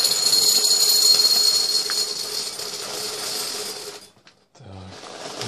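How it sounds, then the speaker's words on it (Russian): Nesquik chocolate cereal balls pour into a bowl as a dense, steady dry rattle for about four seconds, then stop, followed by a brief soft knock. "Сейчас давайте насыпем шариков шоколадных."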